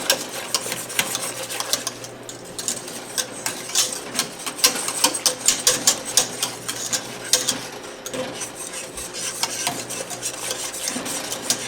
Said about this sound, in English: I know you might want to stop stirring to let it come up to a boil.